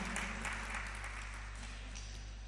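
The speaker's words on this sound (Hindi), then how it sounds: "बजाओ एक बार तालियां इनके लिए" Steady applause from a crowd at a religious discourse in Jahazpur, India, a dense even wash of clapping with a low electrical hum underneath, no voices standing out.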